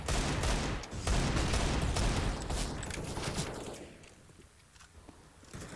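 Dense gunfire from a Counter-Strike esports match, rapid overlapping rifle bursts and shots filling the first few seconds, then thinning to scattered quieter shots and footsteps toward the end.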